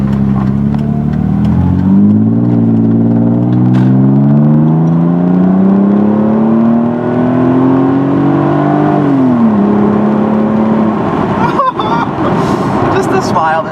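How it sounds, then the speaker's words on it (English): A car exhaust rises and falls in pitch as the engine revs while cruising, loud and continuous in the cabin, with someone talking over it. "Let's see if we can hit a little exhaust clip here."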